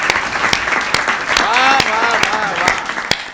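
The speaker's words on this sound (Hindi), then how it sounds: "एक बार इन बेटियों के सम्मान में पूरा पुरुष प्रधान समाज तालियां बजाए" Audience applause at a Hindi comic poetry gathering (hasya kavi sammelan) in Rampur. Dense, steady clapping with sharp individual claps lasts about three seconds, with a voice rising and falling over it in the middle.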